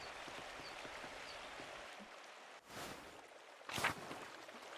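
A loud waterfall in the video game Pentiment gives a steady rushing hiss, broken by a couple of louder whooshing surges near the end.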